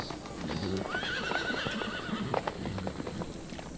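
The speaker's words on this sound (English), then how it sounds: "Out comes the first wild horse." A wild horse at the Soma Nomaoi samurai horse festival in Japan neighs loudly over a rhythmic clatter of hooves, with a noisy crowd all around.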